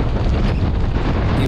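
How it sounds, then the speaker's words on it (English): Strong wind roars and buffets the microphone continuously, a loud, dense rumble with gusting swells throughout. "It's really windy now."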